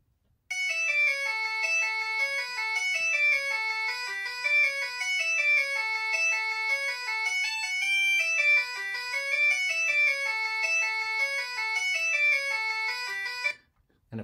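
A synthesized Scottish bagpipe tune, rendered as an MP3 with reverb, plays a bright, rapid ornamented melody over a steady drone for about thirteen seconds, then stops abruptly.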